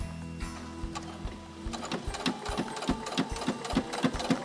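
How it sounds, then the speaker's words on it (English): A sewing machine stitches a wallet, its needle starting after a brief whir and settling into a fast, regular mechanical chatter, close and clear without speech. "we're sewing really close up against that edge to stitch this hole closed"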